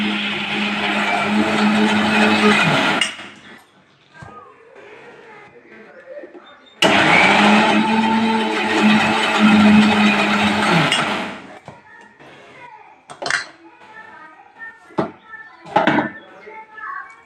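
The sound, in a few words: mixer grinder grinding lentils and coconut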